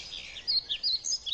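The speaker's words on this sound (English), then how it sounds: "The only tweeting in the forest will be the sound of birds." Birds tweeting in a forest, a few thin high chirps repeating in quick irregular bursts over a soft background hush, moderately faint.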